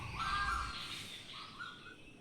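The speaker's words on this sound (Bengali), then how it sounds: "পাখির এত সুন্দর আওয়াজ।" Early-morning birdsong outside a home, with a crow cawing and a few brief calls that sound fairly close. The calls are soft against a quiet background.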